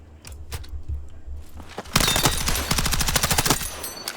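Rapid bursts of submachine gun fire from Battlefield 6, loud and close, with a dense rattling stream of shots after a few scattered earlier pops, continuing almost without pause to the end.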